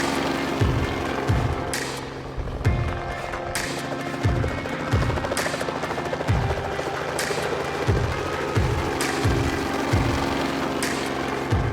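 A helicopter flies over a Texas ranch on a hog and coyote hunt, its rotor thumping in a steady, loud rhythm with an engine drone underneath, sounding fairly close throughout.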